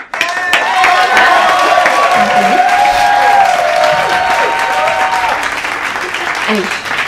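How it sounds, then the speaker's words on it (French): An audience breaks into applause, a loud, full burst of clapping that swells quickly and holds steady, with voices speaking French over the top. "on peut applaudir"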